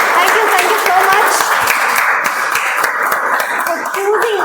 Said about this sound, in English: let's welcome our guests with a huge round of applause and great cheers